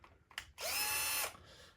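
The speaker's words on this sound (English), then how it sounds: "is we have a drill," A power drill whirs steadily for about half a second in a bicycle workshop, driving spoke nipples while a dynamo wheel is being hand built. Brief mechanical clicks come just before it, and a quieter hum follows.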